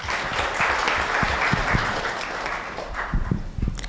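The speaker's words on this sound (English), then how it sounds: "So a warm round of applause to Dr. Bona." Guests at an anniversary gala applaud a doctor introduced as a speaker, a sustained round of clapping with a few sharper nearby claps standing out toward the end.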